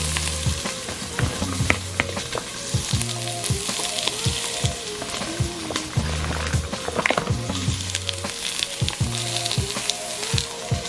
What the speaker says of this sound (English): I'm gonna throw in my vegetables.